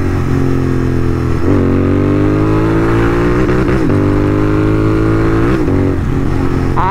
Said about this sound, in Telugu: అండ్ స్వీట్ ఒక పాప్ వస్తుంది గేర్ షిఫ్ట్ చేస్తున్నప్పుడు